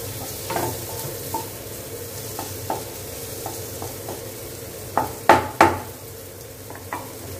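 Pumpkin pieces sautéing in hot oil, a low steady sizzle with scattered light spatula scrapes and a few louder clinks near the end, close by with no voices.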